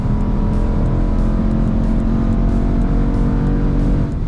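A Dodge Durango accelerates hard from a standstill toward 60, its engine roaring loudly and continuously from inside the cabin as it pulls, with no pauses through the run.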